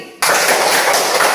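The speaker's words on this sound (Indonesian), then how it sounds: "Tepuk tangan sekali lagi." A classroom of children breaks into a quick round of applause, dense overlapping hand claps starting abruptly and sustaining, close and loud.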